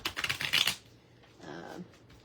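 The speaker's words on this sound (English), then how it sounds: "which I actually prefer to shuffle these as sort of 2 decks and then combine them" Brisk riffle of playing cards being shuffled, crisp and close, one fast burst that fades into softer shuffling.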